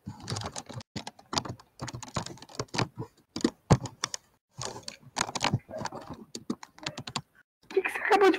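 Computer keys are hammered in rapid irregular bursts, loud and close, with brief pauses between clusters of clattering strokes, heard during a Tetris Friends match.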